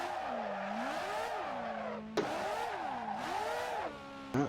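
Car drifting in the Assetto Corsa racing game, the engine note swooping up and down in two long cycles as the throttle is balanced through a spin, with sharp clicks between passes.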